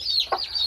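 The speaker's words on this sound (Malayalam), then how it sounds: "ഇത് നമ്മുടെ നാടൻ അറുപതാം ഇനത്തിൽപ്പെട്ട ഒരു കോഴിയാണ് ഈ ഇരിക്കുന്നത്" A brooding native hen, an Aseel cross, gives a single short, soft cluck over a steady background hiss, heard close and alone.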